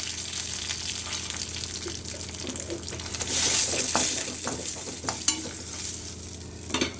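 Cumin, mustard seeds and curry leaves sizzle and crackle in hot oil for a Marathi drumstick curry, a steady close frying hiss with sharp pops that grows louder as the spices are stirred in.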